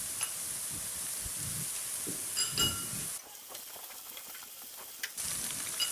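Ginger garlic paste sizzles loudly in hot oil with light-browned onions while making masala rice, a close, continuous frying hiss with a few clinks of stirring and a brief dip midway.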